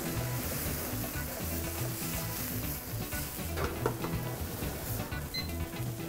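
Rice poured into boiling stock in a wide paella pan over high heat sizzles and bubbles steadily, with a tonal background running underneath.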